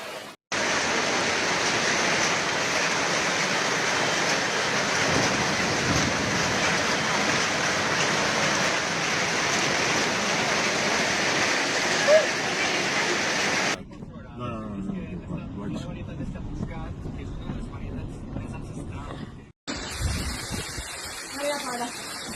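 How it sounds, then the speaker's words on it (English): A violent hailstorm in Alcarràs, Spain, with golf-ball-sized hailstones pounding down as a loud, dense, continuous roar of impacts, which cuts off abruptly and gives way to quieter, sparser sounds and then a brief burst of noise. "hailstones the size of golf balls hammered"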